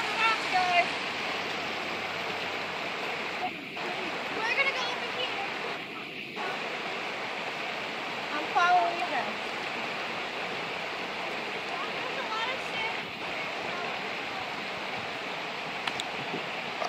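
A waterfall pours in a steady, broadband rush that holds constant throughout, with a few short interruptions and faint voices in the background.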